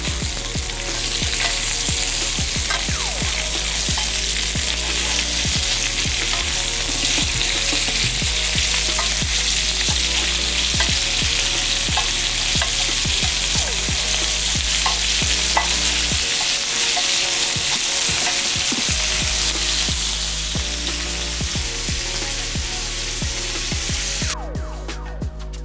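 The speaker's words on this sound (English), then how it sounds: "I'm ready to flip my lamb chops." Lamb chops sizzle loudly on a grill as they are flipped, a dense continuous hiss broken by brief tool scrapes and clanks, close up with no talking.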